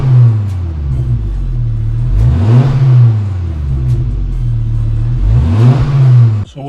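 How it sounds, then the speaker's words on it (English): A Ford Focus ST Mk2 with a Stage 2 tune and an Airtec intercooler idles loudly up close, then gets two sharp throttle blips that rise and fall back to a rumbling idle. "Should we have a cheeky rev? Let's have a cheeky rev."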